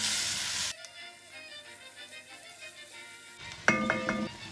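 Chopped onions sizzling in olive oil in a pan, a soft steady frying hiss; a metallic clink of utensil against the pan sounds near the end.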